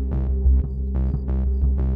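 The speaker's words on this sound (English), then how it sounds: "unusual low-frequency humming noise" An unexplained low-frequency hum: a steady, deep drone underneath, with louder throbbing pulses swelling and fading in an uneven rhythm over a couple of seconds, heard alone with no talking.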